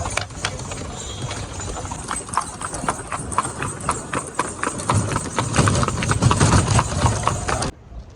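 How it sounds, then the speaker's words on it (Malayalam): Hooves of a horse pulling a cart clip-clop in a quick, steady rhythm on a road near Ana Sagar lake in Ajmer, Rajasthan, close and continuous with some background noise, ending abruptly. "കുതിരവണ്ടിയിലാണ് വന്നത്."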